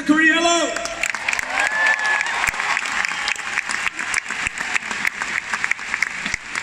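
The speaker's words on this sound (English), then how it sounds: "While you're clapping" Crowd applause at a concert at Rod Laver Arena in Melbourne, a steady wash of clapping with some cheering; a voice speaks over it at the start.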